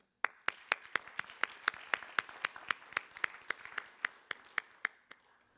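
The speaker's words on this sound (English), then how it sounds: "IPFW and Christopher deserve our applause for doing this every year" A small audience claps at a charity talk on a domestic violence program, a thin, steady run of distinct hand claps in even rhythm, fairly quiet and tapering off after about five seconds.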